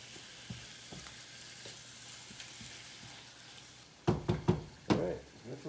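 Onion frying in a pan for a keto Mexican casserole gives a faint, steady sizzle, then a few louder knocks and scrapes near the end as the pan is stirred.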